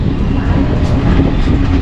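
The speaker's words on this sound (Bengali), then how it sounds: "নবদ্বীপ থেকে আমাদের ট্রেন কিন্তু ছেড়ে দিল।" The Teesta Torsha Express pulls out of Nabadwip Dham station, giving a loud, steady low rumble and rolling noise from close by that holds without a break, with no voices over it.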